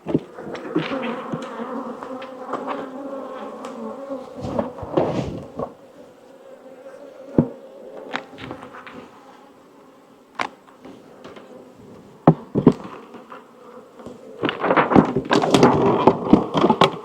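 Honey bees buzz loudly and continuously around an opened hive, the droning swelling and fading with close passes, punctuated by occasional wooden thunks and knocks from hive equipment.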